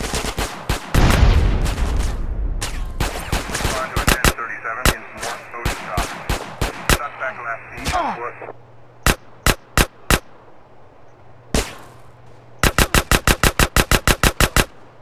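Gunfire from GTA San Andreas, heavy and continuous at first, then a handful of separate loud shots, and finally a quick, evenly spaced burst of automatic fire.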